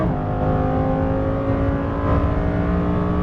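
A Lamborghini Huracan Performante's engine pulls hard at full throttle, a loud, steady, rising roar with dense harmonic drone, close and continuous, running up toward an upshift without any talk over it.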